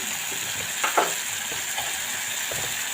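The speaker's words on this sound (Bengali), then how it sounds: "মশলাটা এখন একটু কষানো হবে" A spice masala with green chillies sautés in a pan with a continuous sizzle, marked by a couple of brief scraping stirs.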